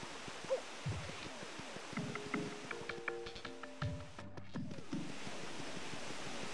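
A waterfall in Paper Mario: The Thousand-Year Door rushes as a steady, soft wash of noise beneath light game music tones and small effect sounds.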